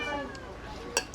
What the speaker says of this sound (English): I've got a cat in here that's hungrier than I am.